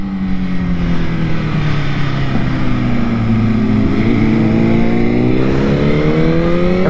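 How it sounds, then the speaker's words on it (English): A high-performance motorcycle carrying a passenger at speed around the COTA racing circuit: a loud, sustained engine roar with a pitch that dips and then climbs steadily as it accelerates, heard close up alongside rushing wind. "what it's like to ride a high performance motorcycle at speed on the racing circuit"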